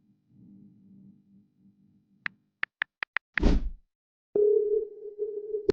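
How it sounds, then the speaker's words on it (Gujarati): Several short electronic keypad beeps, a brief whoosh, then a steady humming ringing tone on a phone line, clear and close with no voices. "કાલુ મદારી ફોન કરવો પડશે"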